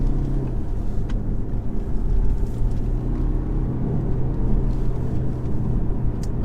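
Steady low engine and road rumble from inside a 2021 BMW 520d Touring diesel estate with a ZF 8-speed automatic gearbox, driving along at a constant loud level with no speech.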